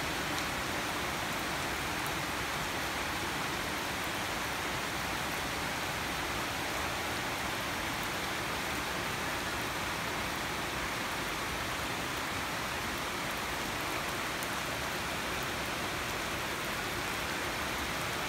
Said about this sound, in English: This is the problem if it's raining.